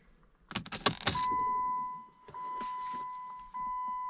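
Ignition key turned on in a Jeep Commander XK: a brief burst of key jangling and clicks inside the car, followed by a steady electronic chime tone that holds, dips and resumes.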